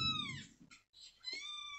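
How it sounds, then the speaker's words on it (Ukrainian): Kittens mew and cry from a video played back on a device, with several thin, rising and falling meows in a row, heard up close and fairly faint. "Де плачуть кошенята?"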